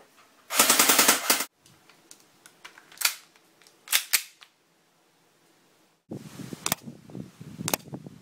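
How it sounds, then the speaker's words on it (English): Full-auto electric airsoft M14 fires BBs from a 300-round magazine in a loud, close, sustained rattling burst, followed by a few short scattered shots, a quiet gap, then another stretch of rapid firing with sharp peaks. "I'm going to use my M14 courtesy of full auto electric Call of Duty Black Ops gun with a full magazine of 300 BBs."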